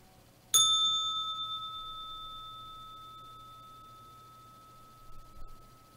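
A single bell ding struck once and left to ring out clearly for several seconds, slowly fading with no other sound around it.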